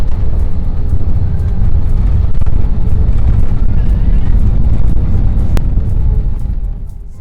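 A LATAM airliner cabin descending toward Lima gives off a loud, steady engine and air roar with deep rumble, which holds level and then fades slightly near the end.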